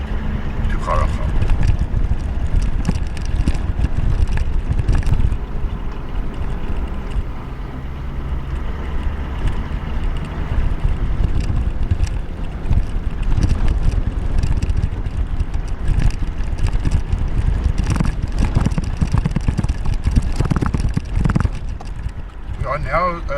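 An ordinary 4x4 vehicle drives south along the sandy road to Gharagab in the Kgalagadi, near the Namibian border, with a constant loud engine and road rumble mixed with wind buffeting the microphone as people talk over it.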